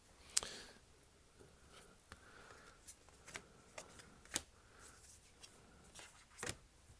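A deck of tarot cards is shuffled in a quiet room, giving soft, faint riffling and a string of light, sharp card snaps at irregular intervals.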